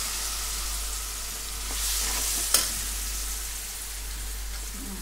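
Ground gongura chutney from a stone mortar cooks down in a pan, giving a steady close sizzle with stirring scrapes and one sharp clink midway, with no talk.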